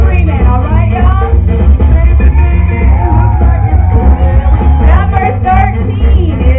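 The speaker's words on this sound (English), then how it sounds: "I had to hear some screaming" Crowd screaming, yelling and whooping at a modeling event in Greenville, South Carolina, loud and sustained for the whole stretch, with a dense wash of voices.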